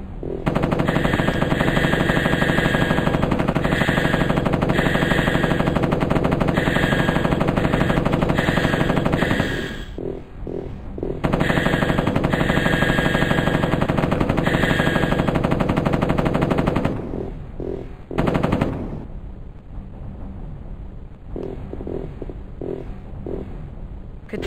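M60 machine gun in the 1995 shooter Mortal Coil: Adrenalin Intelligence firing long sustained bursts, loud and close, with brief pauses between strings of rapid shots.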